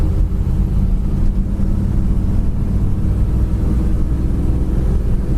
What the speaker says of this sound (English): Dual exhaust sounds really good as well.